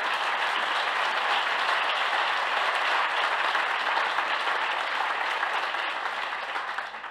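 Audience applause at a German IG Metall union meeting, steady dense clapping from a crowd lasting several seconds and tapering slightly at the end.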